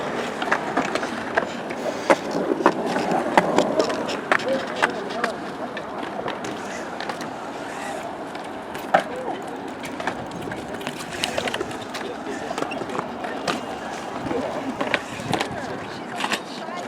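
Bike riding at a skate park, a steady rolling rumble with scattered sharp clacks and knocks running throughout, fairly close, with some faint voices in the background.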